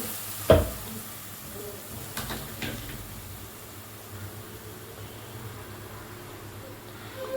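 Ground spice paste for a country chicken curry hits a pan and fries with a soft, steady sizzle, a sharp splash near the start, then a low continuous crackle throughout.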